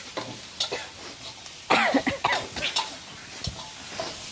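Spicy frog stir-fried in a pan, with repeated scraping and stirring strokes over a soft sizzle, busiest in the middle of the stretch, heard close up with no talk.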